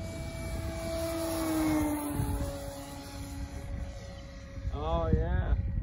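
An E-flite Cessna 150 RC model airplane flies overhead, its small propeller motor a steady distant whine that slowly shifts pitch as it passes, with a brief voice near the end.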